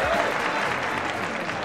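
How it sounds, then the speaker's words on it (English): Applause at an auction-style event after a $25 bid is accepted, a crowd clapping steadily and fairly loudly, with a brief voice at the start under the clapping. "Big round of applause."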